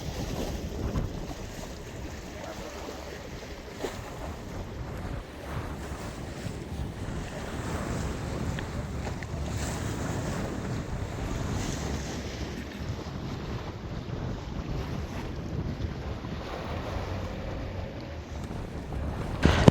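Strong sea waves surge and wind buffets a boat at night off Katchatheevu island, a steady roaring wash of surf and gusting wind noise throughout with no voices.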